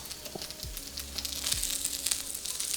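Garlic tossed into a pan of blistering green beans, a quiet steady sizzle with a couple of soft low thumps and clatters as the pan is handled.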